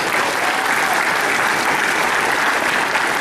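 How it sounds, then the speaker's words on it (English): A convention audience at Origins Cosplay 2015 gives a loud, sustained round of applause for the cosplay children, dense continuous clapping at steady volume without pauses. "one more round of applause for all of our children who work so hard on this"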